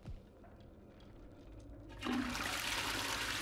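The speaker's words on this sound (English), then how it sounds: "Why does it let me flush the toilet and make noise?" Toilet flushing in the Texas Chainsaw Massacre video game: after a quiet stretch a sudden loud rushing gush of water starts and continues steadily to the end.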